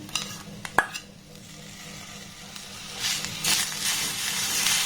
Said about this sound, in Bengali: গ্যাসের ফ্লেমটাকে একদম লো রেখে এবার এটাকে একটু ভালোভাবে নাড়াতাড়া করে নেব